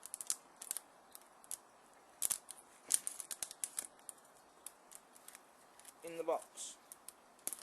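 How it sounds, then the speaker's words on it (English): A knife cutting open the cardboard box of a Bachmann Class 166 model train: quiet, scattered scratchy ticks and a short creaking tear, close by, with someone speaking briefly. "get a knife and open it up"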